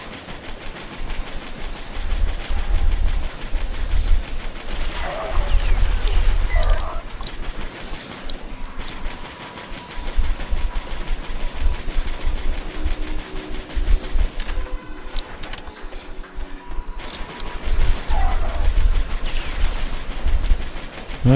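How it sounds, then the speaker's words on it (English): Rapid gunfire in the sci-fi shooter game Assault on Dark Athena rattles in dense bursts with mechanical clatter, loud and continuous with brief pauses. "Keep shooting."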